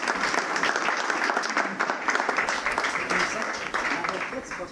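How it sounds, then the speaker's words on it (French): An audience at a business cocktail reception bursts into sustained applause, steady dense clapping that fills the whole stretch with some crowd murmur mixed in. "on peut applaudir tout de suite"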